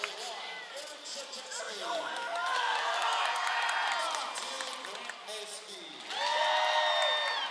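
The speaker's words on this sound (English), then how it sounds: "Huge cheer for Grant Molsky." Crowd at a WIAA boys high school hockey state championship cheering and whooping during pregame player introductions, a broad sustained roar with shouts that swells again toward the end while an announcer talks over it.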